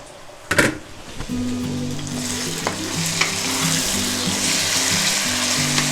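Chicken meat sizzles and fries in a pan while being stirred, a steady close hiss with scraping stir strokes and a few sharp clinks near the start.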